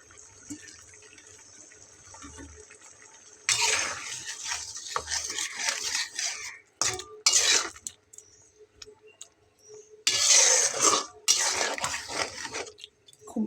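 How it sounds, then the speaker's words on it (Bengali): Fried raw papaya is stirred into boiling red lentil dal in a pot, making wet sloshing and scraping bursts that start after a quiet stretch and come in irregular surges, fairly close. "খুব ভালোভাবে নেড়ে চেড়ে মিলিয়ে নেব।"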